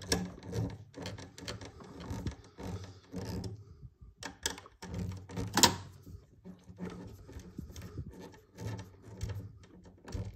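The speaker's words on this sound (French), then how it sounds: "Maintenant, je vais pouvoir visser ça." Parts of a Fast & Furious Nissan Skyline GTR scale model being screwed together while the hood is fitted: close, small plastic clicks, rattles and handling knocks, irregular and fairly quiet, with one sharper snap midway.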